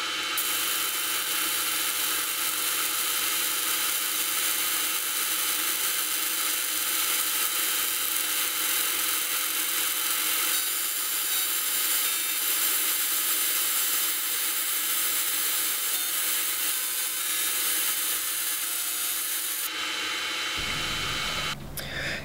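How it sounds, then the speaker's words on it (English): A laser marker etching a logo onto a flat aluminum nameplate, a constant loud machine whine and hiss that holds steady for about twenty seconds before cutting off abruptly near the end. "We're going to mark a logo on a flat aluminum nameplate"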